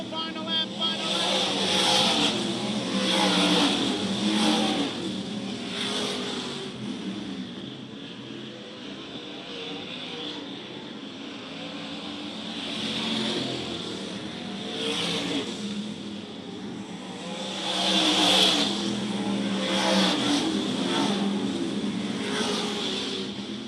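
Modified race cars roar around Charleston Speedway on the final lap of a 40-lap feature, engines swelling and fading in repeated passes, with a track announcer talking over the steady crowd-and-engine din.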